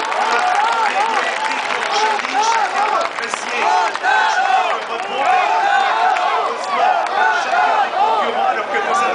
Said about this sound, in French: Vos applaudissements pour Andy Schleck